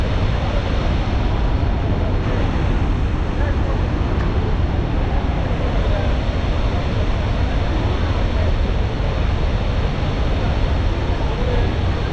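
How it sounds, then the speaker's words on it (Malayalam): Athirappilly waterfall, swollen with monsoon rain, pours down with great force in a steady, loud, broadband roar that fills the scene without a break. "അത്രയും ഫോഴ്സിലൂടെയാണ് വെള്ളം വരുന്നത്."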